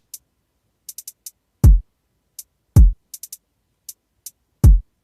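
Trap beat loop built in Ableton Live: deep booming kick drum hits land three times in a sparse pattern, with crisp short ticking hi-hat clicks scattered between them, clean and dry with no voices.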